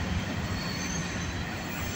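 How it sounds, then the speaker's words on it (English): A short Norfolk Southern eastbound mixed freight train rolls past a crossing, a steady loud roar of wheels on rail with a high metallic squeal running throughout. "There goes a short, very short eastbound Norfork Southern."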